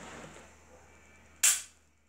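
A single sharp shot from an Ekol Volga air pistol, a close, loud crack with a short hiss tailing off after it, following a quiet stretch of room noise.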